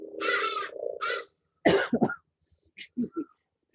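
A person coughs several times up close, starting with a long rasping cough, then a cluster of sharp, harsh bursts trailing off into short throat clears.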